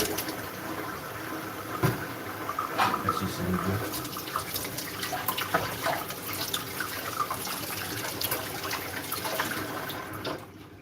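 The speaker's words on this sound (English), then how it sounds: "And running water." Water runs steadily from a tap during a rinse after a vinegar cleaning cycle, a continuous splashing wash with scattered drips and clatter, a voice briefly speaking over it.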